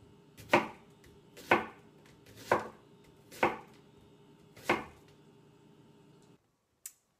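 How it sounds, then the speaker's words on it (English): Five distinct knife chops through onions on a cutting board, spaced about a second apart, close and crisp in a quiet kitchen, followed by a brief small click. "And now for a brief tutorial on how to chop onions without crying your eyes out"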